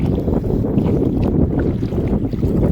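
Strong wind roars and buffets steadily while fishing, a loud low rumble that never lets up through the whole stretch.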